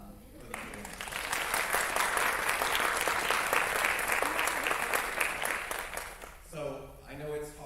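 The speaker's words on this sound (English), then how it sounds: "So you all deserve a round of applause" An audience at a high school state speech and debate awards ceremony claps in sustained, dense applause for several seconds, then it fades as a voice begins speaking.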